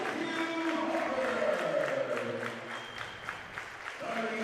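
A home crowd at a girls' basketball game cheers and applauds steadily in a gym, with a sustained wash of clapping and shouts under an announcer speaking over a PA.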